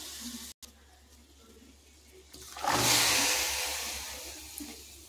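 Water pours into a hot wok set for cauliflower and potatoes, bursting into a loud hiss and sizzle partway through that slowly fades as it settles, after a quieter stretch of low cooking sounds.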